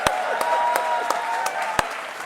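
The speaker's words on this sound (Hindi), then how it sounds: "इसके लिए तो मैं ताली बजा रहा हूं जी।" Studio audience applause on the Indian TV talk show Aap Ki Adalat: a dense, steady wash of clapping from a large crowd, with a few sharper individual claps standing out near the front.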